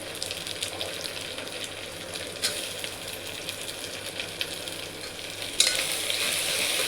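Tomatoes sautéing in a pot for a one-pot black pea pulao give off a steady, moderate sizzle and hiss throughout, with a few faint clinks and stirring noises and a brief sharper rise near the end.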